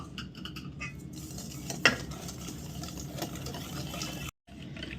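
Half a cup of sugar is mixed into chocolate cake batter in a bowl, a steady close, wet stirring and scraping with one sharper knock partway through and a brief break near the end.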